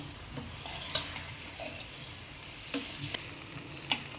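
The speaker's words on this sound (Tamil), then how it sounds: "அப்போ பொறுமையாக கலரணும் ஏன்னா பன்னீரும் போட்டுட்ருக்கோம்" Rice and paneer for biryani being gently stirred in a pot, with soft scraping and occasional light clinks of a spoon against the metal over a faint sizzle, quiet and close.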